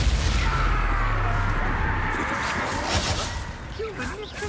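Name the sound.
Confringo fire spell cast in the video game Hogwarts Legacy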